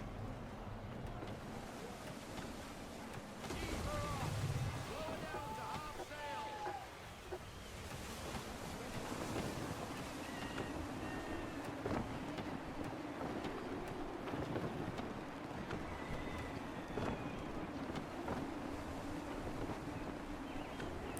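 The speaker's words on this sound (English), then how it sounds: "Gusty winds can be difficult to manage." Gusty wind at sea aboard a sailing ship in the video game Assassin's Creed III: a steady, loud rush of wind and water that surges in waves throughout, with no talking.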